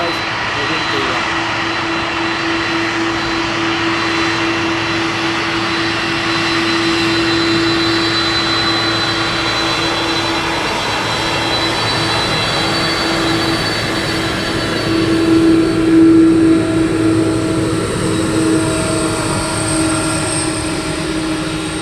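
Aircraft taxiing at East Midlands Airport, a steady loud engine roar with a sustained whine, swelling slightly near the end, with a voice heard over it.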